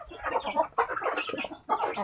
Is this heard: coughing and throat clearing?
no